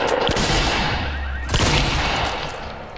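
Rapid bursts of shotgun and sniper fire ring out in Fortnite's Playground Mode, a loud close volley of overlapping shots with a sharp crack midway, then fading.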